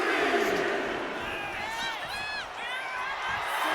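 A wrestling video game arena crowd cheers in a dense, steady roar with brief whistle-like calls rising through it, while a commentator talks over it.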